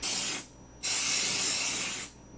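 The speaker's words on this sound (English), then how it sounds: "And I'm gonna spray it directly into the tin." Two hissing bursts of cooking spray shot into a muffin tin, a short first spray and then a longer one after a brief pause, close and loud.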